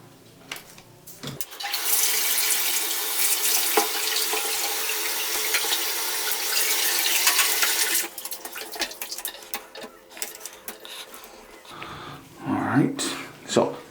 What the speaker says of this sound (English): turn the water on, rinse that off.